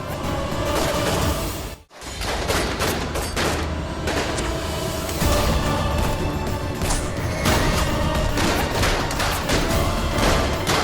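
Sustained rapid gunfire crackles with bursts and sharp impacts, loud and dense throughout with a brief lull near the start, and no speech.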